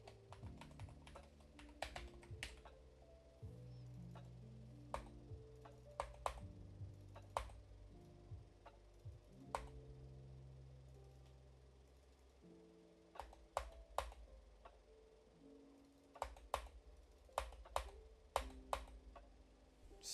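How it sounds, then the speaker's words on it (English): Typing on a computer keyboard: quiet, irregular bursts of crisp keystrokes with a brief lull midway, then quick clusters of clicks, recorded close and alone without talk. "Smash that keyboard a little bit harder"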